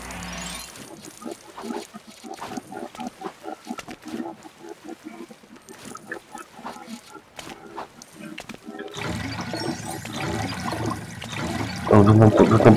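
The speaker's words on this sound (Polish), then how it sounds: "On wypompowuje wodę chyba." Water pumping out in the Lego Batman video game: gurgling, churning flow rising to a loud rushing swell near the end, with game sounds mixed in and a voice talking over parts.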